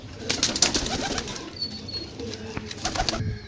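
Slate-colored pigeons for sale, with soft cooing mixed with wing flaps and rustling among several birds, close and moderately faint, over a busy, noisy background.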